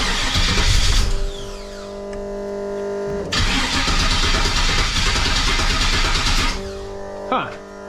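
A Firebird's engine with a freshly swapped motor cranks and catches, running rough with its idle raised, then cuts out and cranks again; the loud close engine noise has a voice speaking over parts of it.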